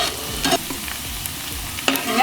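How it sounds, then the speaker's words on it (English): Onions fry in a pan for a beef stew, giving a continuous soft sizzle with two brief stirring scrapes, close and with no voices. "Our onions are still cooking."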